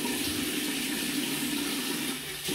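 Hot tap water runs steadily into a bathroom sink for wetting a razor shave, a continuous close hiss and splash with no talking.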